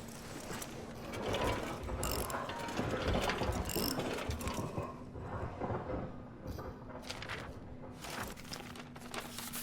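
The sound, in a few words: opening something with a wrench, video game Amnesia: The Bunker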